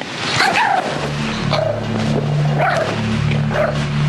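A small dog barks and yips several times in quick, uneven bursts close by, over a steady low engine-like hum, with no one speaking.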